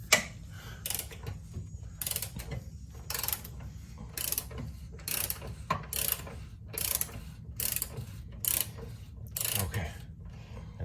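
Rapid ratcheting clicks from a wrench turning a bolt and nut on a driver side control arm of a 2003-08 Toyota Corolla, steady bursts of pawl clatter repeated about a dozen times, close and fairly quiet.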